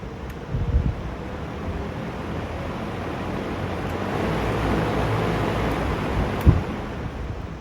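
A BiltHard 24-inch drum fan runs steadily with a broad, loud rushing whoosh of moving air, constant and close, with a faint knock now and then.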